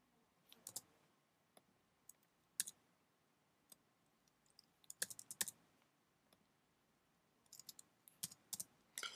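Numbers being typed on a computer keyboard, faint and close: scattered single key clicks at first, then quick clusters of taps toward the end, no voices.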